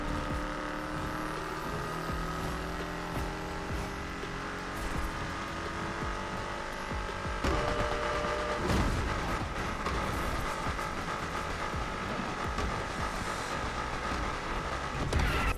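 A Mustang Foxbody racing in Need For Speed Unbound roars at high revs with shifting engine tones, tire noise and other cars, louder and denser after the midpoint, with no talk.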